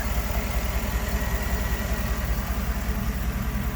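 A 2011 GMC Sierra's 5.3-litre V8 engine idles smoothly and steadily, a low rhythmic rumble throughout with no voices.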